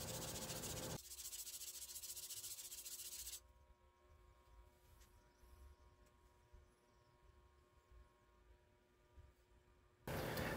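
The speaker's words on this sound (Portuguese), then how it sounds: "eu ainda vou usar o taco de lixar, principalmente nas partes que não são cruciais" A rusty hand plane blade, an ABOHR No. 3, being sanded with a sanding block in short bursts of close gritty rubbing, louder at the start and end with quieter scraping strokes between and no talk.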